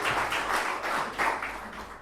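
A church congregation applauds at the close of a sermon, a soft, steady wash of many hands clapping at a moderate distance, with no voices over it.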